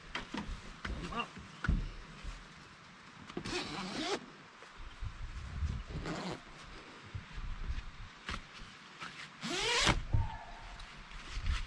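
A zipper is drawn open along the fabric of a rooftop tent on a Ford Ranger touring setup outdoors, giving several long rasping pulls amid rustling, handling knocks and background noise.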